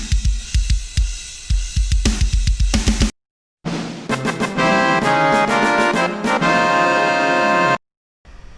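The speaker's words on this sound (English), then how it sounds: "so now we finally get to use real drums" A programmed rock drum kit from a free plugin pounds out fast, loud kick-and-snare patterns with crashing cymbals, cutting to silence twice between sections.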